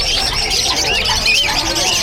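Many caged birds for sale at Bocaue pet market chirp and call continuously, dense overlapping tweets in a busy, loud setting.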